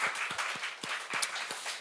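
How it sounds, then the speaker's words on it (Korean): A church congregation gives a round of thankful applause at a Christmas service, a fairly faint patter of scattered hand claps filling the space, with no voices over it. "우리 주님께 감사의 박수 한번 드릴까요?"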